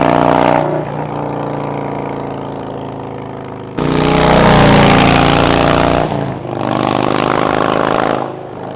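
A 117-engine Harley-Davidson Road Glide with Tab Performance slip-on exhausts makes a loud V-twin flyby, rumbling as it approaches, then surging in a roaring burst of throttle and a second strong pass before trailing off.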